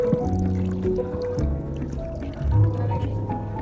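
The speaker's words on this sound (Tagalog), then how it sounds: "Lagyan ng tubig." Water is poured into a cooking pot for fish tinola with tuna, pepper and turmeric, giving a steady, close, gurgling fill with splashy swells and kitchen clatter underneath.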